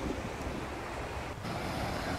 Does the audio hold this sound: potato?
no